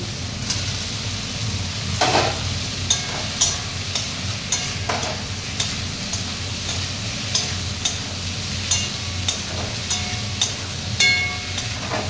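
Potatoes sizzle steadily in a hot pan while a utensil stirs and scrapes them at a regular pace, close and fairly quiet, with no talking.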